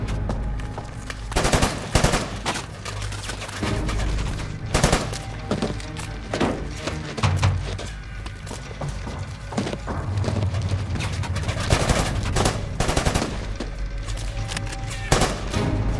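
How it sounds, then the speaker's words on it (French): Sustained gunfire and machine-gun bursts fill a war-film battle scene, with dense overlapping shots, sharp cracks and thuds continuing loudly throughout. "Tir ennemi à 8h, 9h et 10h."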